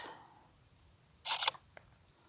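A quick double mechanical click of a camera shutter, crisp and close, in an otherwise quiet room.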